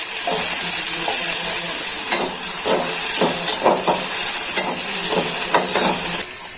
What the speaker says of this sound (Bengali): পেঁয়াজটা ভালো করে ভাজা হয়ে যায়।